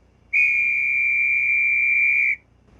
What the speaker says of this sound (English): with function 18, we've got a guard's whistle